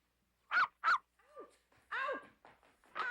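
A dog gives two sharp barks, then a thin whimper and a longer whining yelp, followed by another bark, close and clear in a quiet room.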